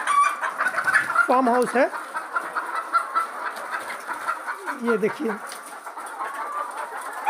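Hens cluck inside a poultry egg farm house, with two short bursts of clucking a few seconds apart, while someone talks over the steady barn background.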